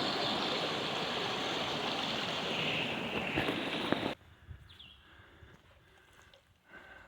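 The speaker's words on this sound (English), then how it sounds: "beautiful brook, isn't it?" A brook flows beside a hiking trail in the Laurel Highlands, a steady rushing wash of water heard up close that suddenly cuts away to quieter outdoor ambience halfway through, with no voices.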